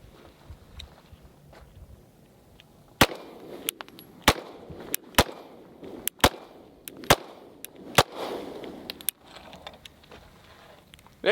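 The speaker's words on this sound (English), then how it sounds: "First rounds to the new Hellcat RDP." Sharp, close shots from a Springfield Armory Hellcat RDP 3.8 pistol, about a dozen cracks at an uneven pace with short pauses between them, each a distinct loud snap over quiet outdoor background.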